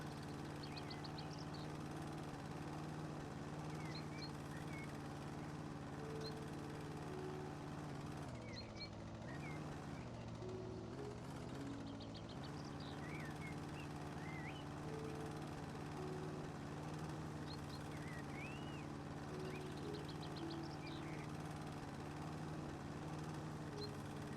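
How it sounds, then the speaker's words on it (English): A lawn mower in the video game House Flipper drones continuously while mowing grass, a steady engine hum with a brief dip midway, accompanied by faint bird chirps in the background. "all the times I've played this game and I still cannot mow a straight line."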